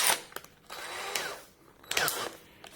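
A DeWalt cordless drill driver set to maximum clutch whirs in two short bursts, with a brief whine rising and falling in each, separated by quieter pauses.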